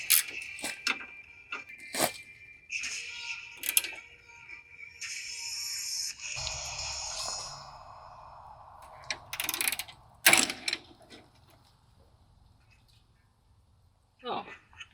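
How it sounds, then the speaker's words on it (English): A ratchet cranks on a body lift bolt of a first-generation Toyota Tacoma until the bolt head snaps, heard as bursts of close metallic clicking with pauses, a sharp crack near the end, and brief voices between. "Oh, well, I just snapped the head on the bolt."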